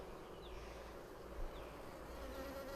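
Bees buzz around a beehive in a steady, dense hum that carries on without a break, with a few passing drones rising briefly over the constant drone of the colony.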